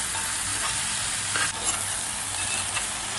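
Okra fries in oil while being stirred, making a bright, steady sizzle close by with a couple of scraping spatula strokes in a short burst; no voices.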